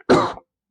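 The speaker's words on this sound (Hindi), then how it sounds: "थोड़ी खांसी हो गई है।" A single short, loud cough from a teacher in the middle of a class lesson, close and clear, followed by silence.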